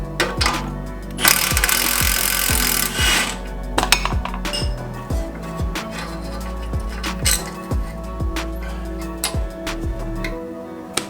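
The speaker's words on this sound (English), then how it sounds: "So next we're going to remove the pinch bolt here, and that is what keeps the knuckle closed and tight around the strut." Work on the strut knuckle of a BMW E39 M5 to free a 16mm pinch bolt and 18mm nut: a burst of rapid impact-tool rattling, then repeated metallic clicks and clinks of a ratchet and tools, close and fairly loud.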